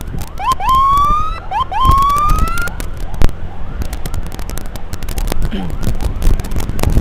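An ambulance siren gives two quick rising whoops, loud and close, then fades into rumbling road and traffic noise.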